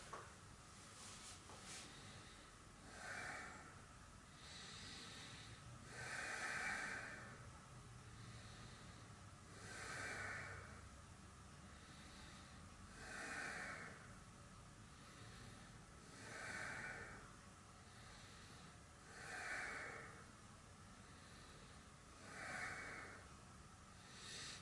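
Slow, deliberate yoga breaths drawn in and pushed out through the nose at a steady pace, roughly every three seconds, close but soft over a faint background hiss, with no talking.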